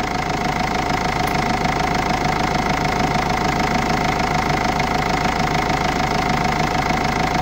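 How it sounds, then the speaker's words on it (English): A Mercedes-Benz engine, after a DRV valve replacement fixing floating RPM, idles steadily and evenly at close range, a constant mechanical hum with a faint rhythmic tick and no changes in revs. "Engine runs pretty smooth."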